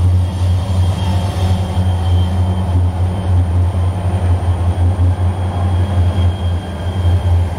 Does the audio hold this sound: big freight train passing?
yes